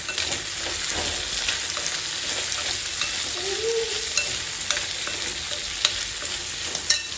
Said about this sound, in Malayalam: അപ്പം ഇത് നല്ലോണം അങ്ങനെയല്ലേ പൊരിഞ്ഞ് വരണം കേട്ടോ ഉള്ളി.